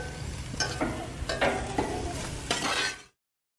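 Eggshells browning on a grill are stirred and scraped in several bursts of dry crackling and clinking, with a steady sizzle underneath, before the sound cuts off abruptly.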